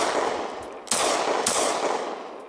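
A Glock 20 10mm pistol with a condom over the muzzle fires two loud, sharp shots about half a second apart, each followed by a sustained noisy rumble.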